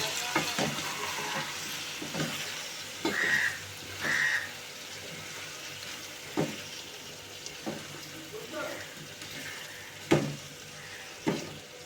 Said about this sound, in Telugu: ఈ రెండు కలిసేటట్టు శుభ్రంగా కలుపుకోవాలి మొత్తం